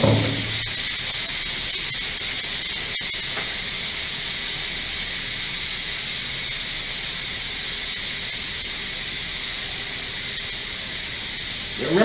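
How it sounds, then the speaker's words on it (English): A pressure cooker cooking spaghetti vents its pressure in one loud, steady hiss of escaping steam that holds nearly unchanged for about twelve seconds, with no talk over it. "Now we're going to release the pressure."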